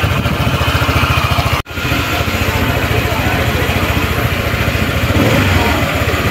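Rusi ATR 160 motorcycle with its stock exhaust idles steadily and up close, a loud continuous putter with one abrupt momentary dropout partway through. No one speaks over it.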